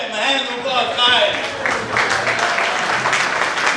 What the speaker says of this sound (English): Hand of applause, Chaim!